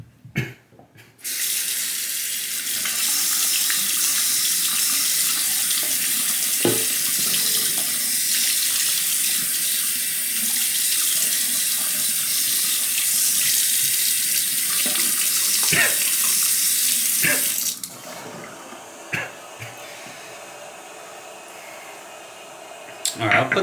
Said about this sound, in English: I'll put the water on the sink actually.